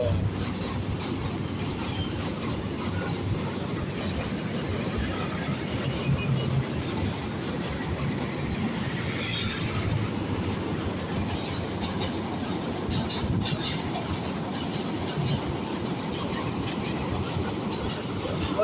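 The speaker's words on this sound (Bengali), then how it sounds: "দাঁড়ানোর ভিতরে দেখি একটা ট্রেন চলে আসছে" A train rolls past at a distance near the Ashuganj–Bhairab bridge, a steady rumbling roar with faint rhythmic clatter from the wheels, holding at a moderate level throughout.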